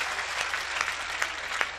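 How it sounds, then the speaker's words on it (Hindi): Steady applause from a live audience at a Hindi comedy poetry gathering, dense continuous clapping filling the room with a few sharper claps standing out, no voices over it. "आप सबसे निवेदन करता हूं मेरे स्वागत में दोबारा जोरदार तालियां बजाएं।"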